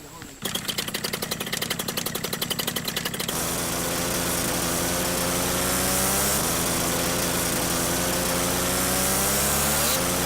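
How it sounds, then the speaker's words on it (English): A model aircraft's two-stroke engine warms up, first with a rapid, buzzing sputter for about three seconds, then rising into a loud, steady, high-pitched whine that holds close by to the end. "With a two-stroke engine, if it's not up to temperature, when you come to take off, you're going to have a bit of a delay."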